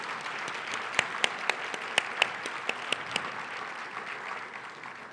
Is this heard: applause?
yes